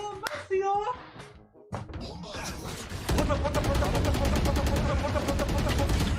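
Rapid video game gunfire rattles in a fast continuous burst of shots that fills the second half, with voices and brief knocks before it.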